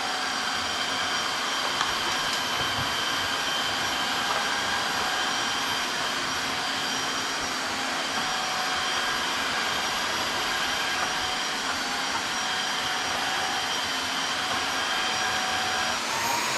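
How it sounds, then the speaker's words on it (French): Dreame H12 wet-dry vacuum cleaner running in automatic mode across a floor, a steady loud whirring motor drone with a high whine held throughout, no talking. "On va essayer donc de nettoyer avec les 2 aspirateurs nettoyeurs immédiatement."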